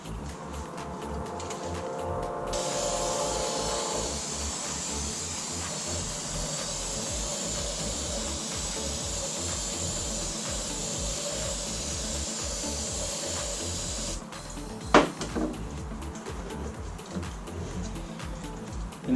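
Brake cleaner sprayed onto the grease-covered bearing of a single-sided motorcycle swingarm, a long hissing aerosol jet lasting most of the time, close and steady, ending with a clunk and some handling noise.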